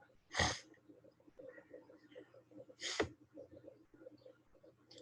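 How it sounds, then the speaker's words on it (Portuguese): Two sharp, wet sniffles from someone with allergic rhinitis, spaced a few seconds apart and close to the microphone, with quiet speech murmuring between them in a remote classroom lesson. "Gente, não se espantem com esses fungados, tá bom?"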